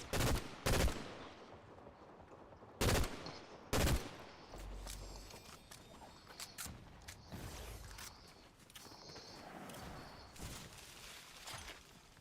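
Pistol gunfire in the Fortnite video game, a few sharp loud shots in pairs early on, then softer clicks, mechanical creaks and scattered game effects.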